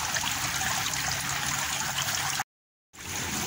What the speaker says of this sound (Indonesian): Lalu kita sumpal agar airnya tuh tidak terlalu deras masuk ke nampan.